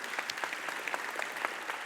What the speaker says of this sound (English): Let's all just give a one round of applause once again.